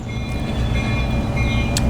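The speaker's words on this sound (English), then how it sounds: "there's the train" A train rumbles steadily close by in a city setting, a continuous low roar with a few faint tonal lines that may be a bell, and one brief sharp accent near the end.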